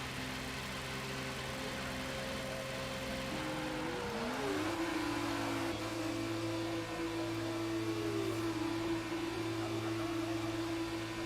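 Formula 1 car in the video game F1 22 pulls out of the pit garage, its engine tone rising and shifting pitch as it accelerates away, with a steady whine and hum throughout.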